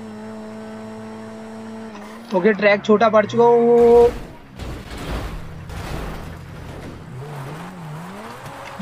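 A police Lamborghini in GTA 5 races at top speed, its engine revving in quick bursts with a tire squeal before settling into a steady high drone, while someone talks excitedly over the game.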